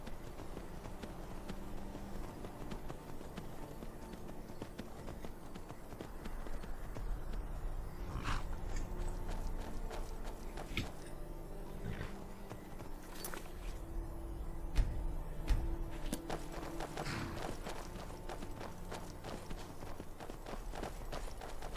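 Horse hooves clip-clop in a steady, rapid gallop in Skyrim, continuous and fairly close, with a couple of sharper thuds midway.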